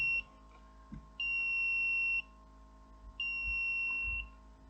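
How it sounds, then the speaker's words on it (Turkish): An electronic buzzer sounds three steady beeps, the first short and the next two about a second long, with a faint hum underneath. "Buradan eksi verdiğimde buzzer'da led ile birlikte yanıp sönecek. Sesi duyabiliyorsunuz umarım."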